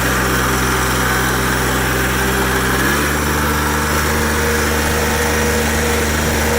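A 1984 Cub Cadet 882 diesel garden tractor engine running steadily at close range, a loud continuous drone whose pitch shifts slightly partway through as the idle changes.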